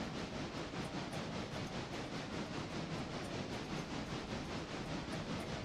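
A modded K35 steam locomotive rolls along in the Railroader game, giving off a steady, even rushing rumble with faint rhythmic beats, constant in level throughout and with no voices over it.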